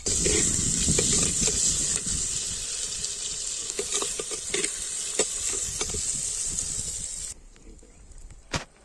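Small chopped onions frying in a pan for a crab curry, a broad hissing sizzle with occasional stirring scrapes, fairly loud and close, dropping off sharply near the end.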